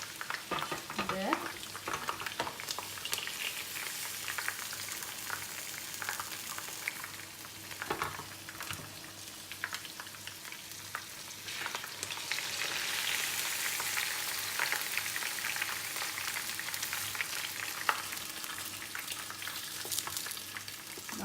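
Chicken chaap pieces fry steadily in a hot pan over a high flame, a continuous broad sizzle with occasional crackles and stirring clicks, brightening and intensifying in the latter half.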